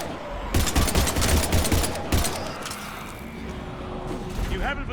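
Gunfire from the video game Mass Effect 3, dense bursts of rapid automatic shots, loud and close, easing into background combat noise as voices shout over it.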